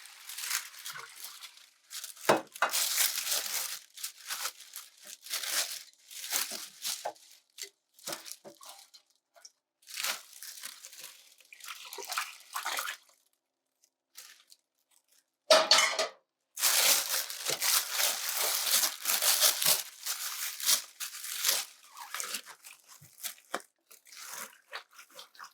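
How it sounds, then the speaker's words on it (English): Brine mixture poured into a plastic turkey marinade bag for a Thanksgiving roast turkey, with steady splashing and crinkling plastic running nearly throughout, broken by a short pause midway. "So now we're going to pour the brine mixture into the marinade"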